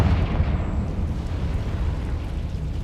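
A Confringo spell explosion in Hogwarts Legacy gives a dense, rumbling low blast that holds steady and loud throughout, with no voices over it.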